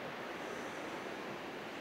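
Ocean surf at Beta Beach, a steady wash of breaking waves heard at moderate distance, faint and continuous with some wind noise over the microphone.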